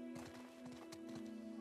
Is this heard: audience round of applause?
no